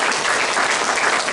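A church congregation gives a loud, dense round of applause at an Indonesian worship service, steady and unbroken clapping close to the listener.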